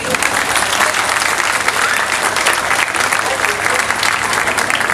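A crowd applauds at the Florangeoise 2023 event in Florange, with dense, steady clapping at full loudness throughout and a voice speaking faintly beneath it.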